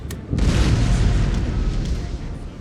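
Cannon fire strikes a ship during a naval battle in Empire: Total War: a sharp opening crack gives way to a sustained, loud rumbling boom that rolls on with dense low-end roar.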